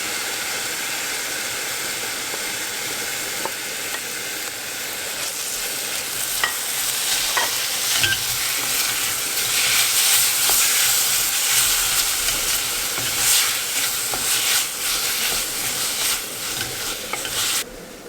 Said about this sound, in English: I'm going to go ahead and add the tomatoes and the remaining spices.